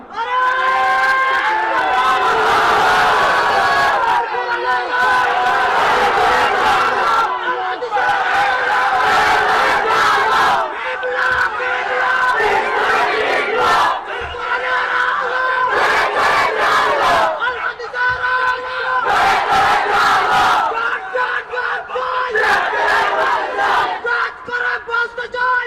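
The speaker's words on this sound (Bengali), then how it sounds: "মঞ্চ থেকে ময়দানে সবাই স্লোগানের জবাব দিতে হবে" Crowd at an outdoor Bangla Islamic waz religious gathering chants a slogan back in loud, massed unison, bursts of shouting voices repeating in rhythmic waves over the whole stretch.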